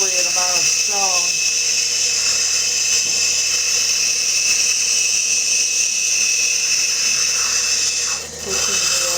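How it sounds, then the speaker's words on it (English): Lapidary grinding wheel doming a stone cabochon as the stone is pressed into it, giving a steady high-pitched whine and hiss that runs continuously, with a brief dip near the end. "Pushing it into the wheel until the wheel takes away the appropriate amount of stone."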